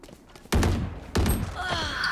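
Gunfire in a Valorant firefight: two sharp volleys of shots, each starting abruptly and ringing out loud and close, with a bright metallic tail and scattered pings trailing after.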